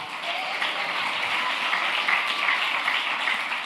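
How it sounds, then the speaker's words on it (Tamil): A church congregation at a Tamil Christian service claps together, a dense, steady wash of applause that carries on evenly for a few seconds with no voices over it. "ஒரு கைத்தட்டி ஒரு சத்தம்"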